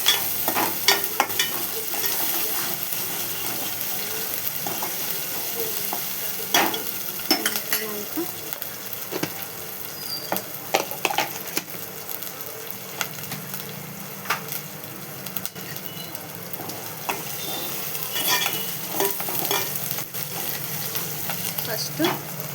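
Ingredients with turmeric stirred and frying in a pan, a soft continuous sizzle with scattered scrapes and clinks of a spoon against the pan, fairly quiet throughout.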